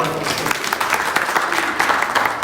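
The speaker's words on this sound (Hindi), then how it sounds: "इनको भी ताली बजा दो।" Brief burst of audience applause during a Sunday church service in Lekhi, Arunachal Pradesh, a crowd clapping loudly and quickly in a dense, even patter.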